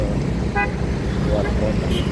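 Road traffic on the exit road from a bus terminal, with a steady roar of passing vehicles and a brief car horn toot, heard close and loud.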